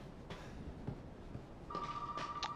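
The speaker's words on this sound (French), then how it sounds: "Portable qui sonne maintenant." A mobile phone rings with a steady electronic tone that starts partway through and holds over a dull background hiss.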